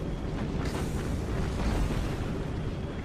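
Torpedo hits explode against warships in Battlestations Pacific, heard as a dense, rumbling roar of blasts and churning water that stays loud and sustained throughout, with no voices.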